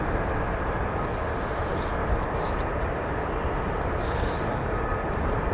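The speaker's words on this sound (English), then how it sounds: "Okay, here they come. F-35s on their way." F-35 fighter jets taxiing at RAF Lakenheath give a steady, loud, broadband engine roar that holds without a break throughout, with faint higher whines drifting in and out.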